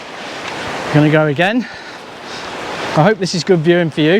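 Ocean surf rushes and splashes over rocks on a windy coast in The Gambia, a steady loud wash with someone talking close to the microphone over it.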